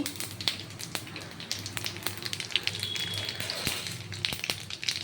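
Dried red chillies and black cumin frying in hot mustard oil in a kadai, a continuous crackling sizzle with scattered sharp pops, close and moderately loud, no talking.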